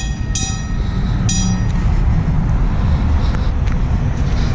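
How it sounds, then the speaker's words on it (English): Loud rumbling train-like noise fills the scene as a swing bridge begins to swing, with a few sharp metallic rings of its warning bell near the start. "As you can hear the bells going off."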